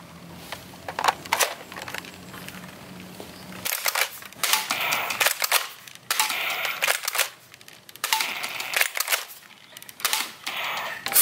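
A toy M16 sniper gun fires in quick bursts of sharp mechanical clicks and rattles, broken by brief pauses, close and moderately loud.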